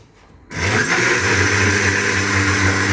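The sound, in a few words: blender pureeing strawberries for ice cream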